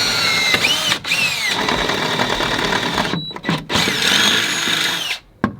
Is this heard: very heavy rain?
no